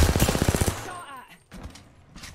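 Rapid bursts of automatic gunfire ring out in a battle royale shooter, a dense rattling volley that cuts off abruptly, followed by scattered lighter shots and a person's quiet voice.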